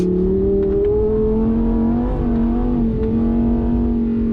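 A Lamborghini Huracan Sterrato engine drones loudly and steadily close by as the car slides through dirt on a rally-style track, pitch rising and dipping slightly with throttle.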